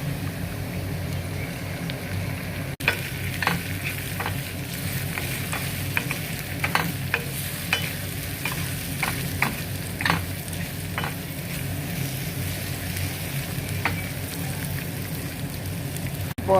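Eggs fry in a pan with turmeric, chili powder and pepper, giving a steady, loud sizzle throughout with scattered sharp pops and crackles and no talking.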